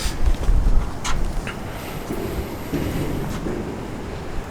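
Steady outdoor wind buffets the microphone with low rumbling gusts beside a Mazda RX-7, loudest at the start and then easing into a constant breezy roar, with no talking.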